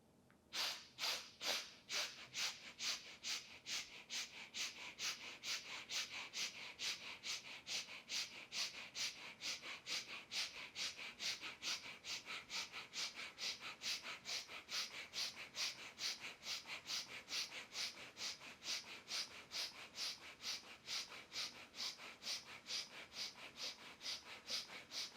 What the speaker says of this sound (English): Breath of fire is a panting breath through the nose while pumping the belly.